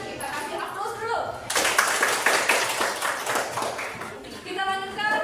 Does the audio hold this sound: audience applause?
yes